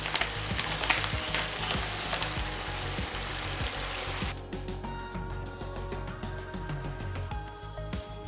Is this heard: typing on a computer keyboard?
no